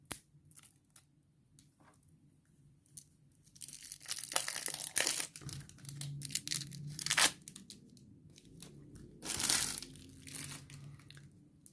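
Plastic shrink-wrap on a Lords of Vaala board game box is torn and crinkled open, with sharp tearing bursts and crackling crumples coming in irregular clusters, close and loud against near silence.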